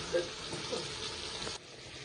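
Ground spice paste hits a pan of softened tomato for a katla fish curry, giving a steady, fairly faint sizzle with a brief stirring clatter partway through.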